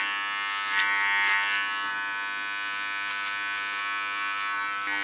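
Electric hair clipper trimming the neckline of an ultra short haircut, a close, steady buzzing hum with a few brief louder scratches as the blades meet hair.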